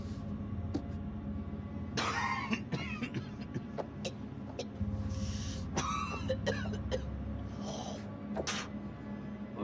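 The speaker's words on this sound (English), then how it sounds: "That's a nasty cough." Several harsh coughs and throat-clearing bursts in the video game The Dark Pictures Anthology: House of Ashes, over a low, steady background rumble, with scattered game effects in between.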